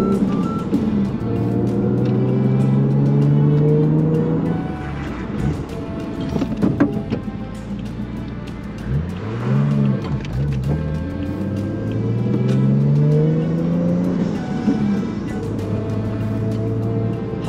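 A Toyota Chaser Tourer V with a swapped turbo accelerates hard, its engine climbing in pitch through repeated pulls separated by gear changes, loud and close from inside the car, without talk.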